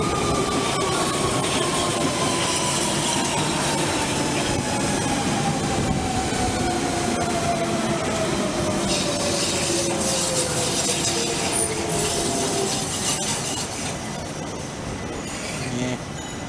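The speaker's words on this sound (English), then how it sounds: "Another Central Line train approaching" A London Underground Central Line train draws into a station, bound for Epping, its loud steady rumble filling the platform while a falling motor whine glides downward and the noise eases slightly near the end.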